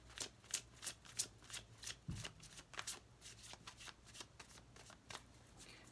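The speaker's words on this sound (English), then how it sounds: "I can really shuffle these ones" Rapid riffling of a deck of tarot cards being shuffled, a quick series of crisp flutters and snaps, close and fairly quiet.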